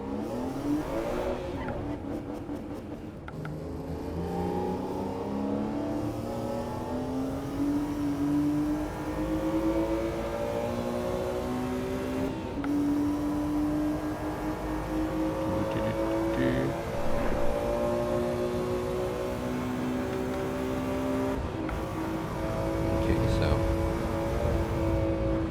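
Stock BMW E46 driven in the racing game Assetto Corsa Evo, its engine note climbing steadily through the gears with rising harmonic tones and occasional tire squeal, loud and continuous throughout.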